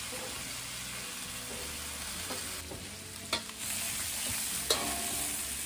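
Broccoli sizzles and fries in a pan as it browns alongside pork fillet, a steady soft crackle broken by a few sharp clicks and knocks of stirring.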